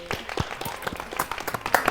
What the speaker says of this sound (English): Let's have a round of applause, team.